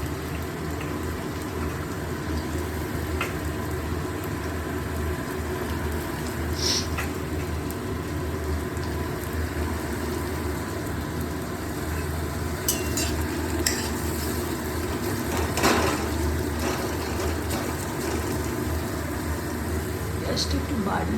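Sliced onions, two of them, sizzling in a pan while meat liver curry is being prepared, a steady dense crackle with occasional stirring scrapes, close and continuous throughout, with talk over it.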